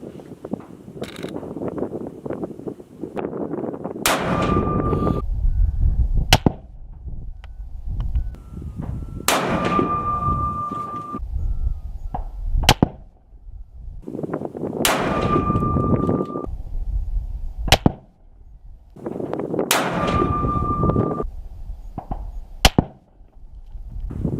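A banned Russian survival rifle fires five shots at a 100-yard target, each a sharp loud crack with mechanical clanks and rattles of working the action between, spaced several seconds apart outdoors.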